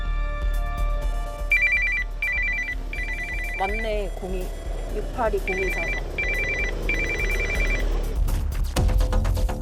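A telephone rings repeatedly with prank calls, bursts of electronic trilling coming in evenly spaced groups, while people talk briefly between the rings.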